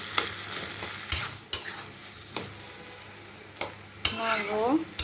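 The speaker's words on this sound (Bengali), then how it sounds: "নাড়তে নাড়তে আলু আর ফুলকপিটা আরও ভাঙা ভাঙা হয়ে যাবে" Cauliflower and potato pieces fry in a pan while a spatula scrapes through them in several sharp, spaced strokes. A soft sizzle runs underneath, swelling louder over the final second.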